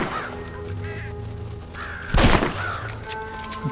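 Crows cawing in the Western video game Red Dead Redemption, several harsh caws repeating near and far over an ambient game backdrop, with a sharp gunshot crack cutting through midway.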